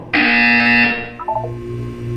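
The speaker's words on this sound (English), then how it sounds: "When you hear the buzzer, look down at the floor." A harsh electronic buzzer in the video game Portal 2 blares loudly for about a second, then cuts off, followed by a few softer tonal beeps over a low hum.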